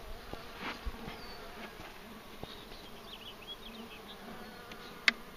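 Honeybees at a weak, struggling hive give a soft, steady buzzing drone, with individual bees whining past close by and a brief sharp tap near the end.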